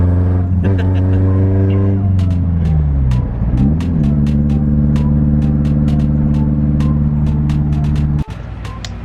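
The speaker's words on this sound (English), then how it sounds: "Pretty much just drove the car out." A Nissan 240SX engine revs and drives off, with a strong steady harmonic drone that dips and climbs again as it pulls away, loud and close throughout, with sharp ticking clicks above and a sudden drop near the end.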